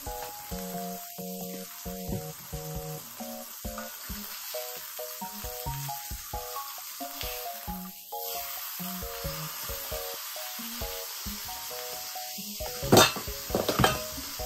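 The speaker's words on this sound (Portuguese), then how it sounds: "Botar o meio pão da panela pra assar" Half a homemade hamburger bun toasts in a pan, giving a steady sizzle with repeated scraping and clinking of a utensil against the pan. A louder clatter comes near the end, and no one talks.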